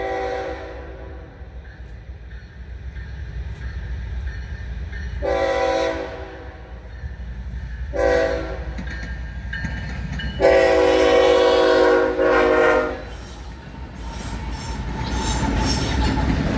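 A Florida East Coast Railway diesel freight train with EMD locomotives rumbles past with steady low engine drone, rail cars clattering, and bursts of squealing wheels rising and falling throughout.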